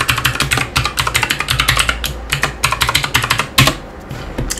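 Rapid, uneven keystrokes on a computer keyboard as a username and password are entered during a git push, close and clear, with short pauses between bursts and one firmer key press near the end.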